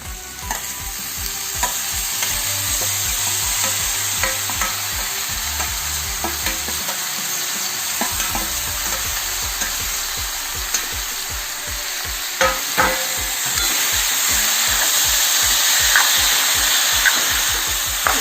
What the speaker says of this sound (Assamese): অলপ দেৰি লৰাই দিছোঁ। যাতে মছলাখিনি মিলি যায়।